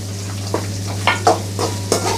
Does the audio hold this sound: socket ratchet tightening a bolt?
no